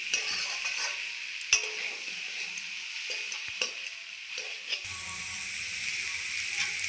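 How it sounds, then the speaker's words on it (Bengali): Water is poured into a pan of papaya and potato curry frying on the stove, giving a steady hiss and sizzle with a few faint clinks of stirring. "এখন দিয়ে দেবো জল।"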